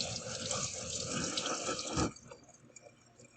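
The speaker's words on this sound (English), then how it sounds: "I'm going to turn on my sprayer here and rinse off the vegetables" A kitchen sink sprayer blasts water over vegetables for about two seconds in a steady, loud hiss, then shuts off, leaving faint dripping and quiet splashes in the basin.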